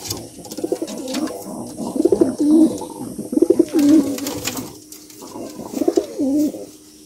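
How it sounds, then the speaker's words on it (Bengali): A domestic pigeon kept at home coos in repeated soft, throaty bursts, several rounds close by with short pauses between them, and no talking. "এটা আমার বাসার অনেক চমৎকার একটি কবুতর।"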